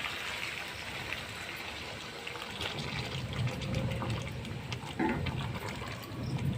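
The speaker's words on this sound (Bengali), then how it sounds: "এবার দিয়ে দিব জল, একটু গরম জল।" Hot water poured into a Bengali curry of pointed gourd and potato with fish head, a steady liquid pour and trickle over soft background noise, continuous for several seconds with a fuller burble toward the end.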